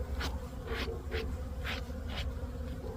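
Honey bees buzz around a hive during a colony check of a dead-out, with a soft continuous hum and brief louder swells as individual bees pass close by.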